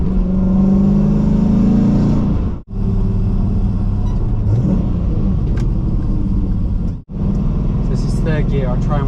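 LS V8 swapped into a Mazda RX-8 accelerating on a wet road, a loud, close, deep engine roar rising through the gears with two brief shift cuts, as a person talks over it near the end.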